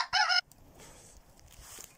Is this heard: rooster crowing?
yes